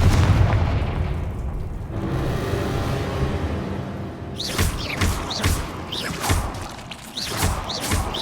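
Confringo blasting spell explosions in the Hogwarts Legacy video game: a loud, heavy boom opens, followed by a rumbling tail and then a run of sharp, repeated blast bursts, loud and close, with no talk.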